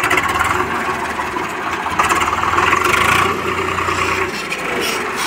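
Steady mid-pitched drone of a Swaraj 735FE tractor engine in third gear hauling a heavy load, running continuously and fairly loud throughout with a slight rise in the middle.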